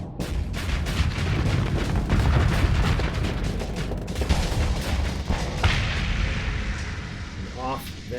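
Spaceship weapons firing in the Starsector space combat game, a dense, continuous barrage of booming shots and explosions throughout, with a voice talking over the battle.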